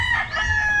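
A rooster's crow rings out near and loud, one sustained wavering call set against other farm fowl in Moalboal, Cebu, on a rainy day.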